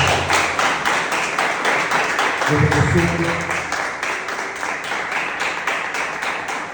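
A church congregation claps in a steady rhythm for several seconds, with a voice briefly heard over the applause.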